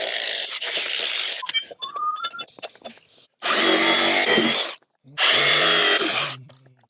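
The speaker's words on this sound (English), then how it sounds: "we're gonna drill our holes and attach the hinges to the posts here" A power drill bores holes into dock posts for mounting hinges, running in three long loud bursts separated by short pauses, with lighter clicks and rattles of handling between the first and second runs.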